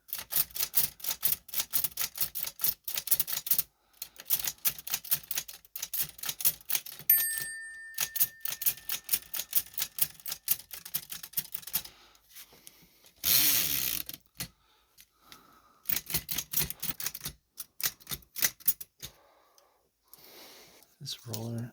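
A 110-year-old Art Deco Chicago typewriter being restored, its keys and type mechanism clacking in quick irregular bursts of sharp mechanical taps with ratchety clicks and brief pauses, close up, with occasional talking in between.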